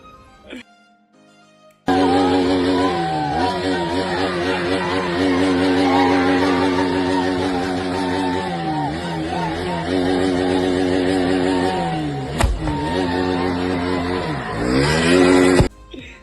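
A motorcycle engine damaged in an accident starts up and runs loud and close for about fourteen seconds, its revs rising and falling in a steady drone before cutting off abruptly.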